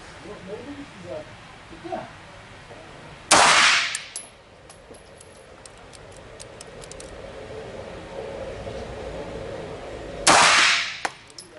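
A Smith & Wesson 5906 pistol fires two loud, sharp shots several seconds apart, each ringing off into a brief echo, with quieter handling noise and low background sound between them.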